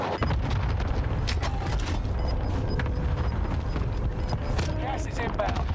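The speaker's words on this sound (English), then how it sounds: "Found a target for airstrike." Airstrike explosions in Call of Duty Warzone, a dense run of heavy booms and blasts rolling together for several seconds, loud and close, with bursts of gunfire mixed in.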